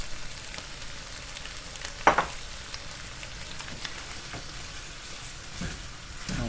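Sweet umami soy sauce sizzles in a hot pan of udon noodles, Chinese broccoli, matsutake mushrooms and tofu, giving a steady close crackling hiss with one sharp clatter early on.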